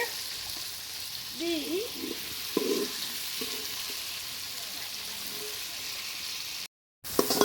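Onions, tomatoes and vegetables such as radish, eggplant, drumstick and beans sizzle steadily in a pan while sautéing for pulikulambu, with occasional stirring and a faint voice in the background.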